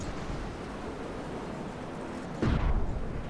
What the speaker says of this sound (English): we got an explosion going on at the tail end of the Pelican there